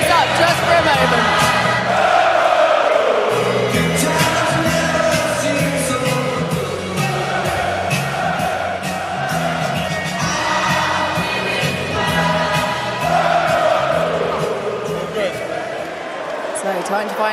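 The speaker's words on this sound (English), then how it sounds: "You can hear the crowd and love it." Boxing arena crowd singing a song together, a loud massed chorus of voices swelling and falling, with cheers and shouts rising throughout and an announcer's voice faintly mixed in.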